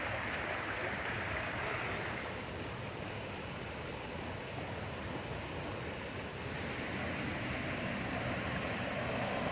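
Minnehaha Falls waterfall in Minneapolis, cascading 53 feet in a limestone gorge, heard as a steady, broad roar of rushing water, continuous and fairly distant, with no voices.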